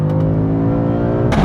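A BMW M5 CS at high speed gives a loud engine drone, its pitch sweeping steadily upward over a second and a half, with a short burst of noise at the end; nobody talks.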